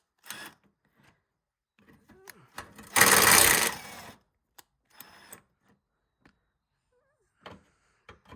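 Pneumatic or electric impact gun loosening the front passenger-side wing bolts on a Chrysler PT Cruiser, one loud sustained whirring burst of about a second amid scattered clicks and handling knocks in a quiet workshop.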